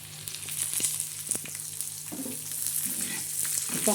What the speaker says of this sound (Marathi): असा मसा मस्त मसाला असा खमंग असा भाजून घ्यायचा आहे